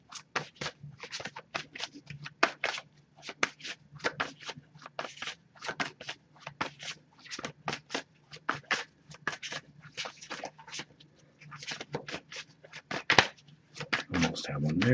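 Tarot card deck being shuffled, a dense run of quick crisp riffling snaps and flicks in irregular bursts, close and clear throughout.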